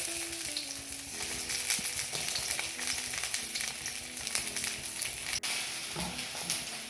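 Sausages sizzle steadily in a hot pan for bangers and mash, with scraping and clinks as they are turned over; a continuous close frying hiss runs throughout with no talking.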